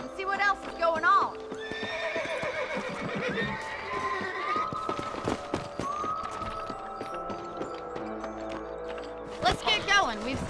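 Horses in the video game Red Dead Redemption whinny loudly and repeatedly while their hooves clip-clop steadily underneath, with a long high neigh early on and another burst of neighing near the end.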